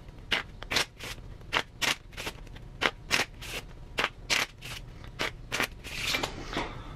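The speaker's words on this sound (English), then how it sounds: "Look, I'll even shuffle the cards" A deck of playing cards is shuffled repeatedly, producing about fifteen crisp, rapid riffling bursts in an irregular rhythm, close and fairly quiet, with no talking.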